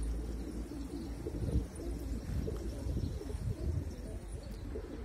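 Pigeons with plucked wing and tail feathers coo softly and steadily in a low, murmuring drone over a dense, continuous background hum.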